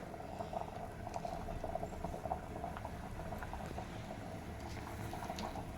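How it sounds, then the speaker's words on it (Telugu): Horse gram simmering in a pot of water, a steady low bubbling and popping that carries evenly throughout, close and moderately loud with no one talking. "పదిహేను నిమిషాలు అయ్యింది మంచిగా ఉడుకుతున్నాయి"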